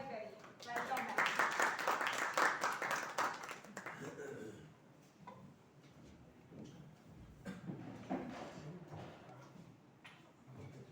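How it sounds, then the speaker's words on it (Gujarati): An audience claps warmly to welcome Professor Dr. Mayuri Mehta at a session, a dense round of applause for about four seconds that fades into murmured talk and room noise. "મેડમનું ઉષ્માભર્યું તાળીઓથી સ્વાગત કરીએ."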